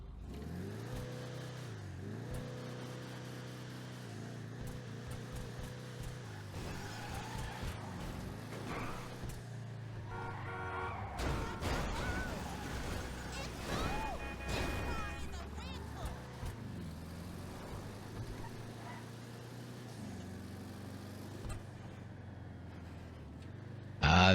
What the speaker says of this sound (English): Let's go ahead and take a listen to this vehicle.